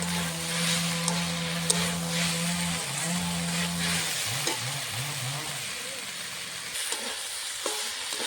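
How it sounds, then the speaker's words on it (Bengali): Bengali small-fish chorchori vegetables with whole garlic cloves stir-frying in a pan, a steady loud sizzle with scraping spatula strokes and rhythmic stirring throughout, no voices. "ভালো করে নেড়ে চেড়ে ভেজে নেবো সবজিটা।"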